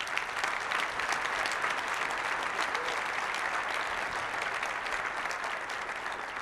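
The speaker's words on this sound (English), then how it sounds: "please give them a round of applause." An audience applauds service members at a State of the City address, a dense, sustained wash of clapping from a large crowd that holds steady throughout.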